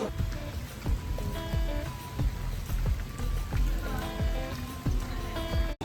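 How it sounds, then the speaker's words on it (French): Steady rain falls outdoors in Punta Cana while people walk through it, a dense, close patter of drops with scattered splashes that continues throughout. "on est en train de marcher sous la pluie"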